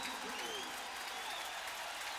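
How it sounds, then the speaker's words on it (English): Stadium crowd at a 1996 Florida vs Tennessee college football game roars loudly and continuously, a dense wash of cheering with no pauses, heard close and steady throughout. "One of the things that we'll look for today is this extreme crowd noise."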